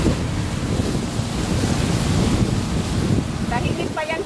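Loud, continuous rush of big ocean surf at Shark Island, Khor Fakkan, with heavy wind buffeting the microphone, and a few voices briefly heard near the end.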